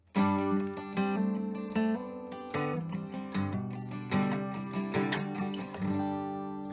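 Acoustic guitar in DADGAD tuning plays a quick, lilting Irish reel phrase alone, notes plucked and hammered in a bright flowing run that rings out at the end.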